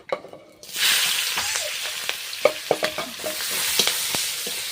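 Fried onion and chili drop into hot oil, setting off a sudden loud sizzle that keeps crackling while a spoon clicks and scrapes through the pan.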